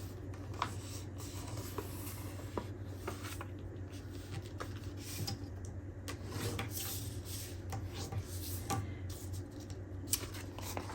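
Paper being folded and creased by hand to make a handmade journal envelope, giving soft rustles and light taps over a steady low hum, with no talking.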